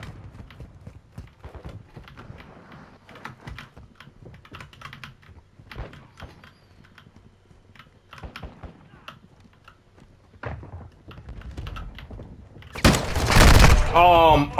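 Fast clicking and tapping run through most of a video game session until a loud, dense burst of automatic weapon gunfire near the end.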